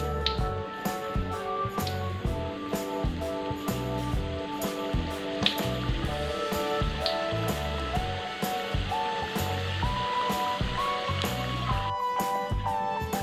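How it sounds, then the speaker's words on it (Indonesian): Sausage-filled tapioca fritters (cireng) fry in hot oil with a continuous close sizzle, heard under background music. "Sambil kita goreng lagi semua cirengnya sampai selesai."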